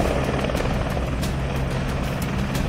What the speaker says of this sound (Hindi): होटल के इर्द गिर्द हेलीकॉप्टर के चक्कर लगाने और उसकी गड़गड़ाहट